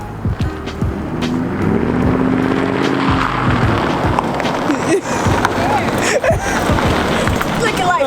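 Loud, steady engine and exhaust rumble from a 2007 Ford Crown Victoria with its muffler removed, a low droning tone throughout with a few bumps and rattles, and voices talking over it.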